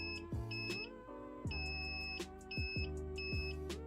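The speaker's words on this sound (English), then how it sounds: "when I tilt this you should hear the multimeter start to beep" A multimeter beeps for continuity as a mercury tilt switch is tilted, giving repeated short, high electronic tones that start and stop in an irregular, flickering pattern. Clanking, pitch-sliding sounds play underneath, faint and close by.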